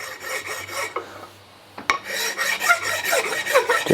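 Horseshoeing rasp filing a hand-forged hammer, heard as close, loud, rhythmic back-and-forth rasping strokes with a short pause and a sharp clank midway, then steady filing resuming to the end.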